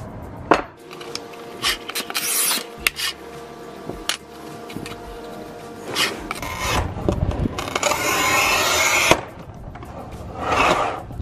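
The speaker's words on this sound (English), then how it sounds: "So yes, it can cut glass fairly clean." A ceramic tile cutting machine cuts glass with a harsh grinding rasp over a motor drone. Sharp clatters and knocks break in, followed by a long, sustained gritty cut.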